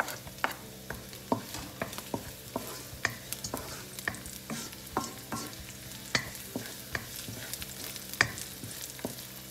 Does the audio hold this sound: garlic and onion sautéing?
yes